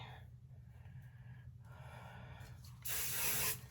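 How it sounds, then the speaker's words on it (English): Hairspray is sprayed onto hair during an updo, a single short hissing burst from the can near the end against a quiet room. "The hairspray really helps make it shiny."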